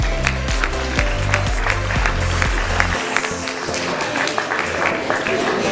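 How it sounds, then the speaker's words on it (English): An awards gala audience applauds in a dense, continuous wash of clapping that carries steadily through the hall, with a rhythmic low beat of music underneath for the first few seconds. "A round of applause."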